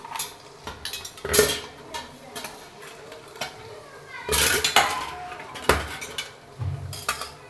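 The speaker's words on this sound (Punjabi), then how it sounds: "ਹੁਣ ਆਪਾਂ ਇਹਦੇ ਵਿੱਚ ਪਾ ਲੈਨੇ ਆ ਬਰਫ਼" Ice is dropped into milk in a metal pot while making a chilled sweet milk drink, giving a scattered run of sharp clinks and clatters against the pot, with brief stirring rattles between them.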